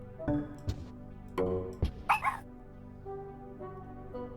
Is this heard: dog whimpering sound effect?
yes